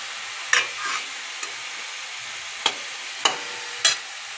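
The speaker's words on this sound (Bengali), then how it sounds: "মশলাটা একটু ভাজা ভাজা করব। আর এই যে একটু টমেটো দিয়ে দিলাম" Spice paste fries in a pan with tomato and potatoes, a soft steady sizzle punctuated by five or six sharp scraping stirs spaced irregularly.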